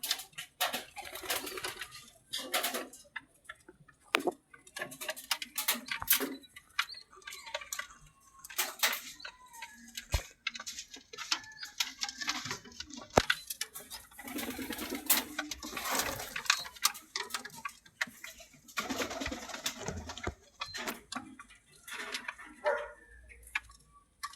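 Rescued pigeons peck at food, a quick irregular tapping of beaks in bursts, close by, with soft cooing and rustling between the clicks.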